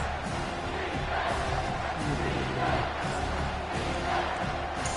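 A stadium crowd in the NCAA 25 college football video game roars in a steady, dense wash of cheering and shouting, sustained and fairly loud throughout.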